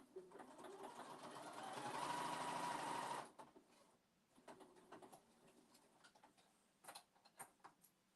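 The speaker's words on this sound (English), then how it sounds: "I'll be over at the sewing machine for like 30 seconds" A sewing machine whirs steadily for about three seconds, then stops, followed by faint scattered clicks and taps nearby.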